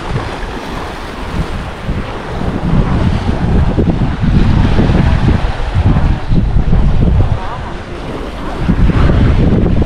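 Ocean waves and strong wind at Villondi Theertham, a clear-water beach near Rameshwaram, Tamil Nadu: steady loud surf roar with gusting wind buffeting the microphone throughout, swelling and easing without pause.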